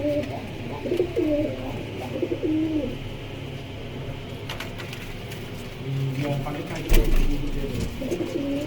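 Pigeons coo softly in low, repeated murmurs at a pigeon farm, with a few scuffles and background voices nearby.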